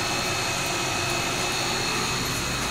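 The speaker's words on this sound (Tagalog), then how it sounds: "May supply na si pump motor mga boss." A water pump motor runs steadily, a continuous near whine and hum with no talk over it.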